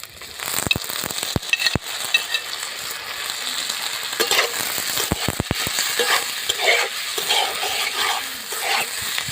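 Chopped onion, tomato and green chili fry in a pan while being stirred, producing a constant crackling sizzle broken by sharp scraping clacks of the spoon against the pan.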